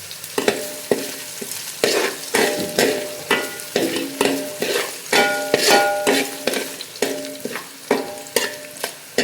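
Onions frying with green chilies, curry leaves and salt in a pan, a steady loud sizzle broken by repeated rhythmic scrapes and clanks of a spoon stirring, close up with no voices.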